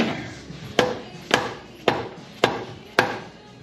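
A hammer strikes a part on a Buick 364 engine during a rebuild, five loud, evenly spaced metallic blows about half a second apart, each ringing briefly, heard up close with no talking.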